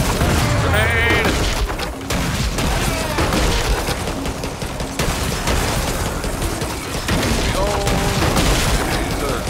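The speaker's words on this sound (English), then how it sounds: "Grenade!" A grenade explodes amid continuous gunfire and loud booming blasts during a zombie-defense shooter game with auto turrets, with dense, dense battle noise throughout the whole stretch.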